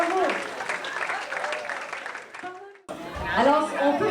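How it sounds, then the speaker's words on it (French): An audience applauds dancers at an anniversary show, a dense burst of clapping with voices over it that drops briefly before the clapping swells again, loud and close. "On les applaudit, mesdames et messieurs."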